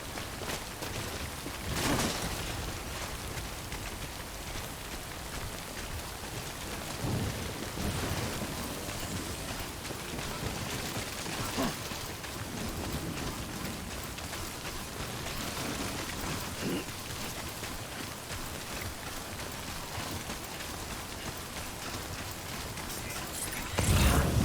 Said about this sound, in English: But I'm getting rained on